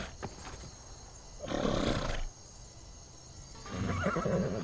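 A horse pulling a carriage in the Skyrim video game neighs in two loud whinnies separated by a short pause, fairly close, with no talking over it.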